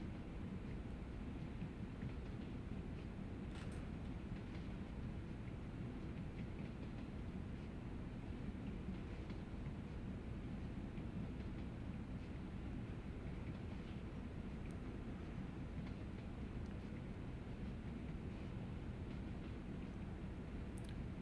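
A train runs along the West Somerset Railway in the Train Sim World game, heard from outside as a steady, continuous rumble with faint rhythmic clicks of wheels on track.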